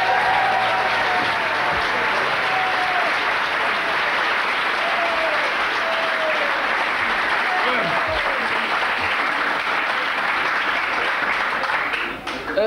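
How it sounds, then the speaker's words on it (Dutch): A studio audience applauds warmly for a comedian and a hockey player at a Dutch TV show, a loud, dense clatter of clapping that holds steady for several seconds, then fades near the end. "Het applaus der herkenning"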